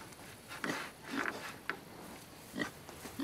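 A pig on a homestead farm gives several short, separate grunts, fairly close and moderately loud, spaced irregularly over a few seconds with no talk.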